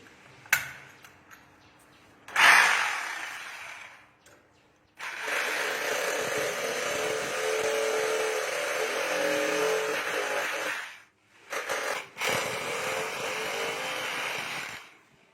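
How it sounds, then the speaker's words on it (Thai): A power drill boring holes with a 7 mm bit while installing a sink cabinet: a brief burst, then a long steady whine for about six seconds, a short pause and another sustained run, loud and close with no talking. "หลังจากที่เรามาร์กแล้วก็ผมจะเจาะด้วยดอกสว่านเบอร์เจ็ดมิล ครับผม"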